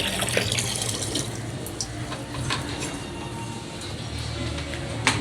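Tap water runs steadily into a container, a continuous moderate gushing stream that stays even throughout with no other prominent sounds.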